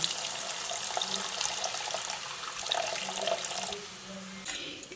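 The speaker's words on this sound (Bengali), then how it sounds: "এবার আমি এর মধ্যে পরিমাণ মতো জল দিয়ে দিচ্ছি" Water pours steadily into a pan of egg and potato curry, a soft continuous splashing and trickling heard alone at low volume.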